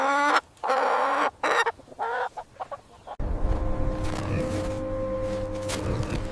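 A small brown farm chicken clucks in a run of short, close calls with gaps between them, then a steadier, busier stretch of clucking over a broader background in the second half. No one speaks.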